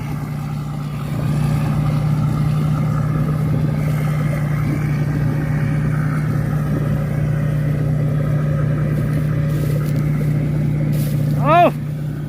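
A large 15-year-old excavator runs continuously with a loud, steady engine drone as it climbs a slope under its own power, with a brief whistle-like tone near the end.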